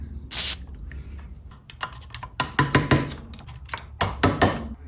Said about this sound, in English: I use this stuff by WD-40.